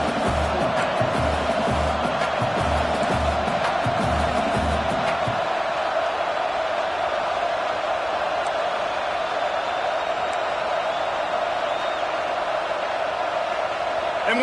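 A football stadium crowd roars loudly and steadily, a dense wall of cheering and yelling with rhythmic thumping early on, continuing without pause.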